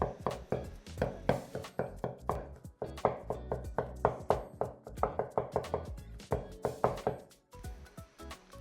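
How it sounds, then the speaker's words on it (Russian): A knife finely chopping diced mushrooms on a cutting board, a fast rhythmic run of sharp close taps that keeps going at an even pace. "Грибы, которые мы с вами нарезали кубиками, дополнительно еще хорошо измельчаем"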